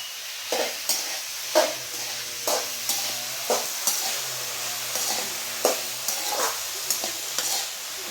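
Ridge gourd roasting in a pan, with a low continuous sizzle and repeated sharp scrapes and taps of a stirring spoon at a steady pace, close and unaccompanied by talk.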